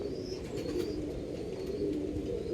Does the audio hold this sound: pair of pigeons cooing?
yes